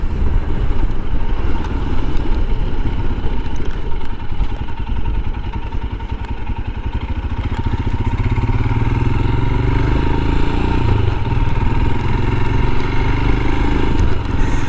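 A Royal Enfield Himalayan motorcycle is ridden on a cold day, its engine a steady, loud, close drone with continuous rumble and wind for the whole stretch.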